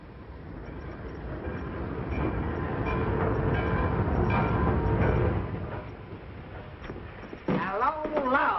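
A train rumbles and rattles as it arrives at a depot, a broad close rolling roar that swells and then eases, with a voice briefly heard near the end.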